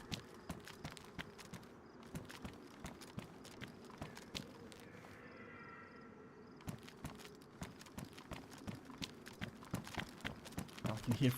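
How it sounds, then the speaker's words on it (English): Footsteps in the video game DayZ, on the Deer Isle map, tap out a quick, steady rhythm of soft crunching steps over a faint ambient background, growing a little louder toward the end. "I can hear footsteps."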